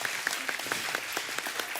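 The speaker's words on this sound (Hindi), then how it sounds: "एक बार जोरदार ताली हो जाए" An audience claps loudly and steadily, a dense burst of applause at a celebrity event that fills the whole moment.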